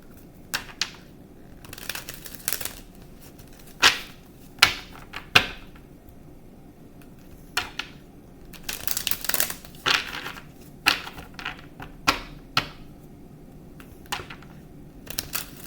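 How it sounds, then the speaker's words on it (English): Tarot cards shuffled by hand in irregular bursts of riffling and sharp snapping, close to the microphone, with quiet gaps between handlings and no talking. "I'm going to shuffle the cards."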